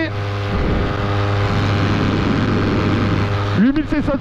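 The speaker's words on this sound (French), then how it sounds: "Alors derrière nous c'est un Polini Thor 202." A Polini Thor 202 paramotor engine runs at high revs with a steady loud drone, then cuts and shifts abruptly near the end as a voice speaks over it.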